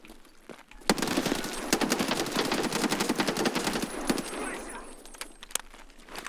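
Bursts of automatic gunfire in the shooter game SPT Tarkov, rapid sharp cracks in dense volleys that start abruptly and continue with scattered single shots, fairly loud and close.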